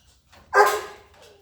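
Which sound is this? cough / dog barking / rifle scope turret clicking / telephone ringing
dog barking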